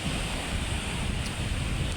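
Big sea waves surge and break on the shore in a steady, dense roar, mixed with heavy wind buffeting the microphone and no voices.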